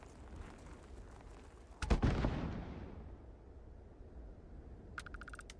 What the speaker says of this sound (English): I wish I could throw a grenade at them.